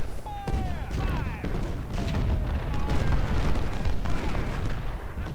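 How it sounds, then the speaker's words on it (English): Artillery pieces firing in the Civil War strategy game Ultimate General: Civil War, a dense rumbling barrage of booms and thuds layered with distant gunfire, under someone talking throughout. "all of our artillery pieces are opening up"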